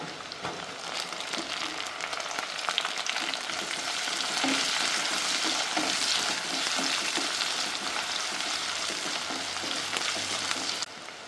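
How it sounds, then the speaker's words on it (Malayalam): Chopped shallots sizzling in hot oil with ginger and garlic for a Kerala taro-leaf curry, a steady close crackling fry with faint stirring scrapes, no voices. "നമുക്ക് അരിഞ്ഞു വെച്ച ചുവന്നുള്ളി ഇടാം."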